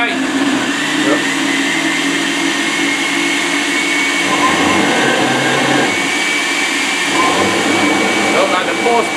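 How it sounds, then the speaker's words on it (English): Two kitchen blenders run together on a 60-second blend cycle, producing a loud, steady motor whine and grinding roar that holds for the whole stretch. "we're going to go ahead and basically hit the 60-second blend on each blender at the same time"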